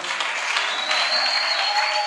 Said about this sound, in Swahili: ongeze makofi waimbaji hawa